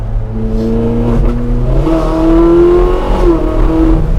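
A Ferrari 458 Speciale engine revs and climbs through gears, a loud, high-pitched howl that rises, holds, and dips again, heard up close with no talking.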